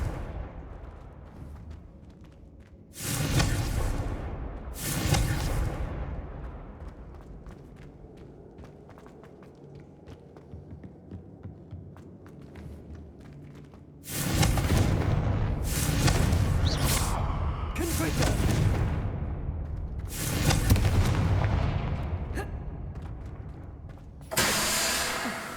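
Confringo fire-blast spells cast in Hogwarts Legacy at the Korrow Ruins: loud, booming explosive bursts arriving in irregular clusters, a pair early on and a rapid volley of several more later, with quieter ambient rumble between.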